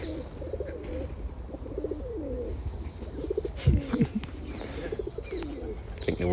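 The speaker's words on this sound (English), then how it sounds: "Pigeons are ruining this." Pigeons coo repeatedly in a London park, soft low rhythmic calls close by, with a few brief chirps from other birds and a faint outdoor background.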